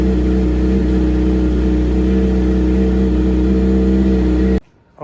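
Kawasaki ZX6R sport motorcycle engine idling loud and steady with no exhaust baffle fitted, running slightly rich on a cold start, a constant throaty drone close by that cuts off abruptly at the end.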